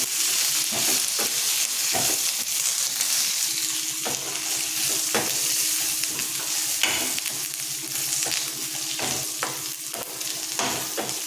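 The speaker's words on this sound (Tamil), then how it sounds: "அதை நல்லா வதக்கிக்குவோம். நல்லா பச்சை ஸ்மெல்லாம் போகிற வரைக்கும் வதக்கிக்குவோம்." Curry leaves and onions sauté in a pan for a curry leaf chutney, with a steady sizzle and frequent scraping stirs of a spoon throughout, close and fairly loud, with no talking.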